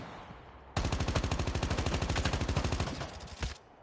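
Rapid automatic gunfire in Call of Duty Mobile bursts out abruptly and rattles in a fast, evenly spaced stream for nearly three seconds, loud and close, before stopping.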